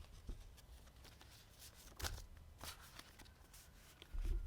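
Tarot cards are shuffled quietly up close, soft irregular riffling and slapping sounds with brief pauses between bursts.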